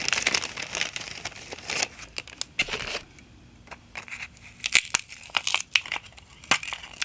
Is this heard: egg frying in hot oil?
no